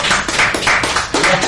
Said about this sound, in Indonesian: Tepuk tangan buat ayah.